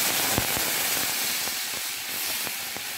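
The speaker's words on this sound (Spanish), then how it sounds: "brinca cuando se está cocinando la salsita" Salsa verde for green enchiladas sizzling in a hot pan, a steady frying hiss broken by sharp pops and spatters scattered through it, close and fairly loud with no talking.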